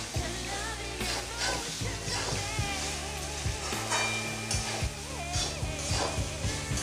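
Washed, flattened rice (poha) being stirred in a hot pan for a pulao, with a steady soft sizzle under scraping, clattering strokes of a spoon, close and moderately loud, no talking.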